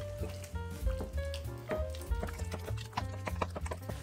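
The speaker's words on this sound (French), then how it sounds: "J'ajoute les œufs. Je vais commencer à les mélanger, à les incorporer." Eggs being stirred into a thick chestnut paste for a three-ingredient chestnut cream cake, giving close, rhythmic sticky clacks and scrapes of the utensil against the bowl, steady and moderately loud with no talk.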